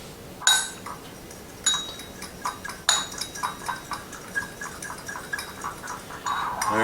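A whisk beats oil and seasoning into a salad dressing in a bowl, giving a run of quick metallic clinks and taps against the bowl's side, close and moderately loud.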